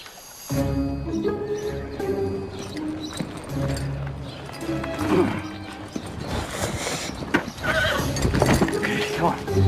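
Horses whinny and clop about on a farm in a Christmas holiday film, a neigh rising over hoof thuds and rustling, while someone talks and urges an animal on.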